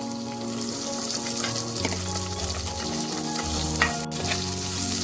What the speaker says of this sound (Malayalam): അതിലേക്ക് നമ്മൾ കഷ്ണിച്ച് വെച്ച ഇഞ്ചി ചേർത്ത് കൊടുക്കാം. കൊച്ചുള്ളി ആദ്യം ചേർക്കാം.